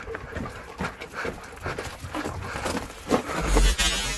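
Dog panting inside a cave, heavy rapid breaths close by, with scuffling and a louder thump near the end.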